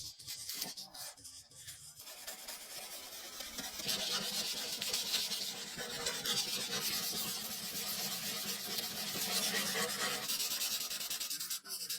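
Steady close rubbing of fine 2,500 and 3,000 grit sandpaper polishes a rusted pocket knife blade, starting with a few uneven strokes and then settling into a continuous, even scratching hiss.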